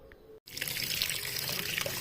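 Running tap water pours steadily over dried fish being washed in a sink, a close continuous splashing stream after a brief silent gap at the start.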